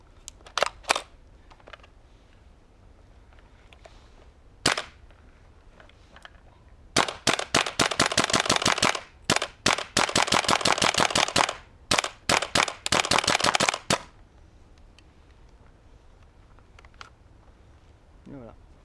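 A WE G39C gas blowback airsoft rifle fires sharp single cracks at first, then long full-auto bursts of rapid snapping shots with short pauses, loud and close, followed by quiet.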